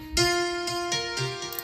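A piano plays sustained notes with strong echoing repeats blurring into each other, layered over a soft low bass pulse and held tones.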